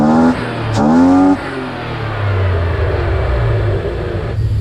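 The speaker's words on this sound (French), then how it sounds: "Et là je vais aller accélérer avec la pédale." BMW 325i bi-turbo engine revved by pressing the accelerator pedal, loud and close, the pitch climbing sharply, easing back, then holding a steady raised drone.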